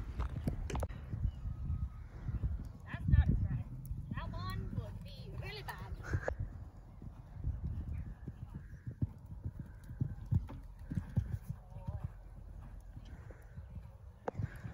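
A young horse's hooves cantering round a showjumping course, a steady rhythmic clip-clop of hoofbeats close by, with snorting and a whinny partway through and a voice talking over it.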